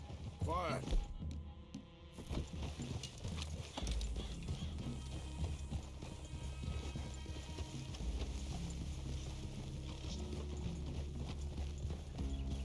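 Horse hooves clip-clop steadily in Red Dead Redemption 2, a continuous close rhythm of several horses walking, with voices talking over them.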